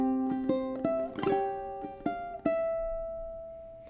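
A ukulele plays the third bar of "Waltzing Matilda", a short run of plucked notes and a strummed chord, close and fairly quiet, with the last note left ringing to fade out alone.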